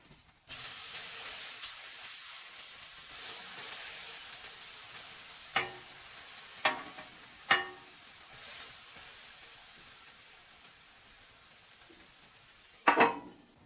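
Thick Beyond Burger plant-based patties hiss and sizzle steadily on a grill. A few sharp clicks of a spatula or tongs sound near the end, and no one speaks.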